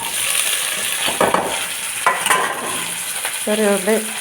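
Crushed ginger and garlic hit hot oil with popping mustard seeds, giving a loud, even sizzle with scattered spatula scrapes, and a brief voice comes in near the end.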